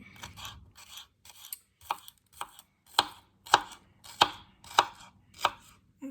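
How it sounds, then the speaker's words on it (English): A knife chopping green onion into small pieces on a cutting board, a steady run of about a dozen crisp, close knocks at a brisk, even rhythm, with no talk. "when I slice my green onion, I slice it down the middle and then in small pieces"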